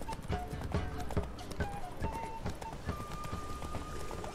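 Roach the horse gallops in The Witcher 3 video game, a steady rhythmic clip-clop of hooves close by with a brief whinny, under faint ambient game sound.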